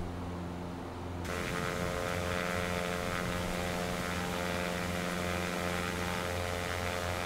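Cessna propeller engine in X-Plane 11 drones steadily in a loud, constant harmonic hum that swells slightly in power after the first second, with no talking.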